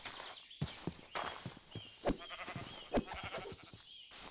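Several sheep bleats rise and fall among soft clopping and rustling in a medieval Minecraft modpack game, game-like ambience, no speech.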